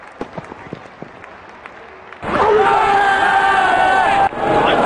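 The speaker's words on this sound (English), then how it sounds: "The crowd is exhilarated." A cricket stadium crowd at a T20 World Cup match between England and South Africa erupts into loud, sustained cheering and roaring, following a few faint claps and a quiet stretch.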